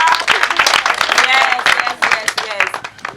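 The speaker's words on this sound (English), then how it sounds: "Give yourself a clap." Audience at a graduation ceremony clapping for themselves, a dense burst of many hands close by that carries steadily for about three seconds.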